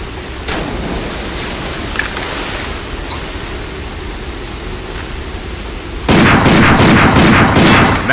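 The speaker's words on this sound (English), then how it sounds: "Take out your handgun and try shooting that sign." Handgun shots fired at a sign in the video game Binary Domain: a few faint, sharp pops early on, then a loud cluster of rapid, punchy reports near the end, all over a steady hiss of background noise.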